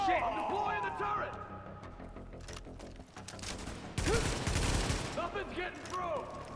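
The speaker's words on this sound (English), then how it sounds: "I'm deploying the turret." Deployed turret in a shooter video game firing rapid automatic bursts, dense and loud, with explosions and chaotic battle effects and voices talking over the gunfire.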